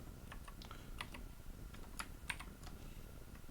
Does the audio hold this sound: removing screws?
no